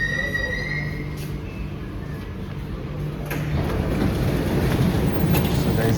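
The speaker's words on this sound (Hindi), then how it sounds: "So the metro will now stop and I will get inside." Rumbling train noise rising as a Dubai Metro train pulls in, with a faint high squeal and brake hiss toward the end; steady and close.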